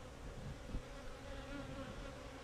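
Honeybee foragers return to a hive entrance partly blocked by a piece of wood, making a close, continuous buzzing hum with a brief louder burst as one passes near.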